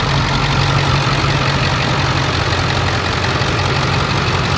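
A 7.3L Powerstroke diesel engine in a Ford F350 4x4 pickup idles steadily with a low, even rumble and a faint knocking texture, constant and close, with no voices.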